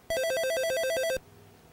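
An electronic telephone ring chirps in a fast, repeating two-tone trill for about a second in a Famicom video game, loud and clear before cutting off abruptly.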